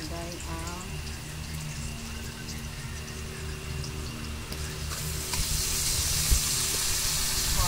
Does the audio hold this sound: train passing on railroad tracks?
no